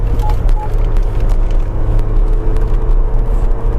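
MG Gloster SUV engine in sport mode pulling hard toward 4,500 RPM, heard from inside the cabin as a loud, steady low rumble and whir with road noise, continuous and close, no talk.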